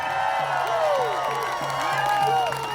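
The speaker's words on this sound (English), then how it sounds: "I want everybody to give a massive round of applause for the PPS" A rally crowd at the Freedom Rally in Ottawa, Canada cheers and claps, with rising whoops and whistle-like shouts arcing over a dense, continuous wash of noise.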